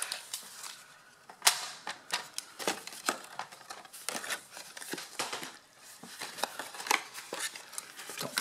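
Paper for a mini album is cut with scissors close up in a rapid run of crisp snips and crinkles, loud and uneven, alone with no talk.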